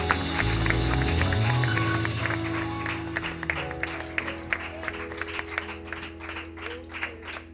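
A church congregation claps loudly during a worship service, and the crowd noise grows into brisk, dense applause after a low sustained musical tone fades out at the start.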